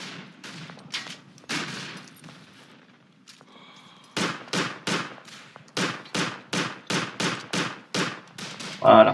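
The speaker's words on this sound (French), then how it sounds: "on vide nos cartouches, on recharge" Rifle fire in the WWI shooter game Verdun, with a string of loud, sharp shots in quick rhythm in the second half, along with clanking reload sounds and some quieter shots earlier.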